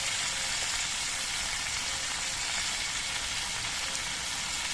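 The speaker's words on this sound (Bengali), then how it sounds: "হলুদের গুঁড়ো দিয়ে আবার কিছুক্ষণ ভেজে নিতে হবে" Taro stolons frying with turmeric powder in a pan make a constant, even sizzling hiss throughout, fairly close, with no speech.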